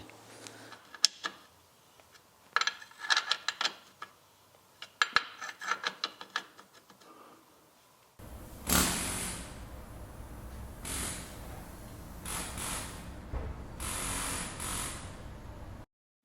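A ratchet tightens the gearbox plug on an MGB, giving bursts of close clicking strokes, followed by a louder stretch of rubbing and scraping mechanical noise.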